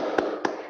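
Two sharp claps about a quarter second apart, part of a rhythmic classroom cheer clap in a fourth-grade lesson, heard close over a steady background hiss.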